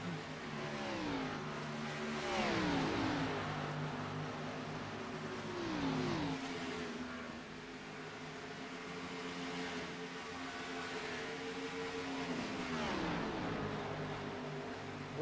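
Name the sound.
race cars battling in iRacing video game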